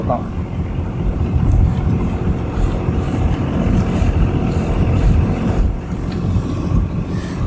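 A sailboat motors along the Swedish coast near Arkösund into a headwind, its engine a loud, constant low rumble mixed with wind buffeting the microphone.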